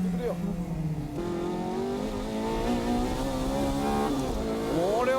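Honda S2000 with a 2-litre VTEC engine racing on a track in 2002, its engine note rising and falling through gear changes as it chases another car, loud and close, with someone talking over it.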